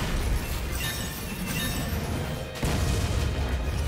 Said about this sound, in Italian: 2000 esplosioni arrivano qui